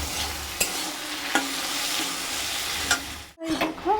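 Curry sizzling and frying in a pan, with a steady broadband hiss, a few sharp utensil clinks, and a short scraping stir near the end; close and fairly loud.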